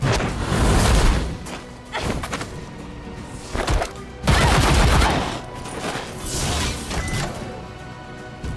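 Revolver gunfire and heavy impacts in the JRPG Battle Chasers Nightwar, several loud bursts of shots and booms in quick clusters separated by brief lulls, with no talk.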